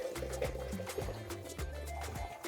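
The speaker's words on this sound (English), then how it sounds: "Draining the ice bath asparagus right into my strainer here." Ice-bath water drains off blanched asparagus into a strainer in a home kitchen, a steady liquid pour with faint trickling and dripping over a low, continuous hum.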